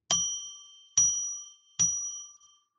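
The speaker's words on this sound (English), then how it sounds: "I'm going to ring a bell 3 times now and declare a sacred space." A bell rung three times to open a sacred space, each strike a clear bright ding with a long ringing decay, evenly spaced and close, with no talk.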